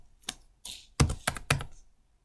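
A handful of separate computer keyboard keystrokes type out a short word, five or six close, crisp clicks in a quiet room with pauses between them.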